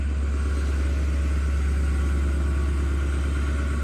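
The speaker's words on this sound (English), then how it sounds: "Going into high idle right now." A diesel truck engine runs at high idle on a cold morning around 12 degrees, giving a steady, close, continuous low rumble with an even throb and no talk over it.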